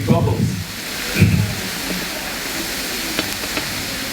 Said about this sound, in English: The surface of the lava is beginning to cool, and the steam is finding it harder to escape.